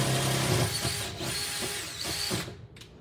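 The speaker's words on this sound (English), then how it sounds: "I think we got to drill it open." A power drill grinds steadily into the metal casing of an ATM, a loud, continuous mechanical whine close by that cuts off abruptly near the end.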